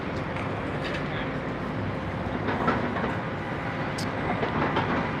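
A train runs steadily along the rails with a continuous rumbling clatter and faint squeals, heard from close by at moderate level with no talk.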